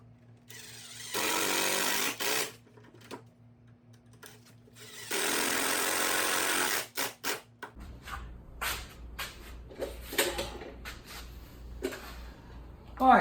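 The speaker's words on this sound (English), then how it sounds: "So now we're going to drill this in." A power drill whirs in two sustained bursts, each a couple of seconds long, driving screws into wood. Then a person talks amid light handling noises.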